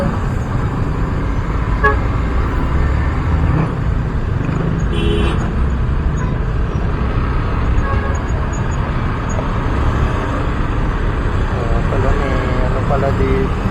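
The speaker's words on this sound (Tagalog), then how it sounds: "Ang traffic lagi na." Busy road traffic hums with engines and short car horn toots sounding close by. Voices are heard in the mix.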